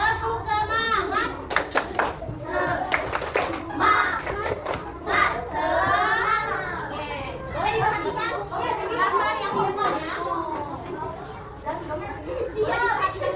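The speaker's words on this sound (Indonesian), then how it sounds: "sebelum belajar kita akan tepuk semangat" Schoolchildren in a classroom perform a rhythmic 'tepuk semangat' clapping chant, quick claps mixed with loud children's voices chanting and chattering throughout, close and lively.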